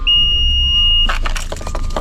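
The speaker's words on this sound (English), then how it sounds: "it beeps at me because it's got a anti-theft thing" A delivery vehicle's anti-theft device gives one steady, loud, high electronic tone lasting about a second, then rapid clicking and rattling follow over a low engine rumble.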